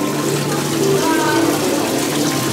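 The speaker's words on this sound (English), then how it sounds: "Love the waterfall just there." Continuous rushing water from an indoor themed waterfall at an aquarium, like a nearby cascade splashing down, steady and fairly loud with a faint background hum.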